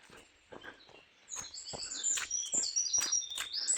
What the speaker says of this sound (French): Comme vous pouvez l'entendre, il y a toujours les oiseaux qui sont très présents.